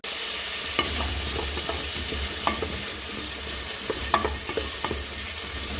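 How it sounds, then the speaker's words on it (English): Potatoes stir-fry in hot ghee, a loud steady close sizzle with scattered scraping clicks of a utensil stirring them through the pan. "What a lovely sizzle."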